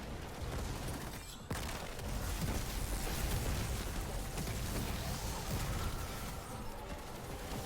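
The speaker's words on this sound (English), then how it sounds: "I'm gonna throw my grenade up there to stun the overload, and when I see it stunned, I'm just gonna pop my Chaos Reach on it" In the Destiny 2 video game, a grenade and the Chaos Reach super hit a boss, producing a dense, continuous roar of crackling energy and explosive bursts with a sharp break about a second and a half in.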